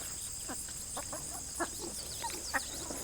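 Backyard chickens, a rooster named Fred and a red hen, give soft scattered clucks and short calls at a distance over a steady buzz of insects.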